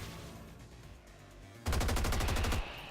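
A sudden loud burst of rapid automatic gunfire in a zombie shooter game, following a quieter stretch of ambience and lasting about a second before cutting off.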